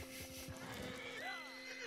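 A horse neighs in Red Dead Redemption 2, a rising then falling whinny after a short run of hoofbeats, quiet and mixed with game ambience.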